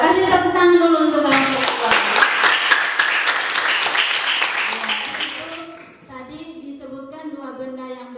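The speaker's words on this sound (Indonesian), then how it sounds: "Kasih tepuk tangan dulu untuk kelompok 2" Students clap for a classroom group in a lively burst of applause lasting several seconds, with a teacher's voice speaking before and after it.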